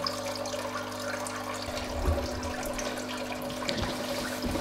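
Water runs and bubbles continuously in a small aquaponics tank in a kitchen, a steady splashing wash with a low pump hum underneath, moderately close and without a break.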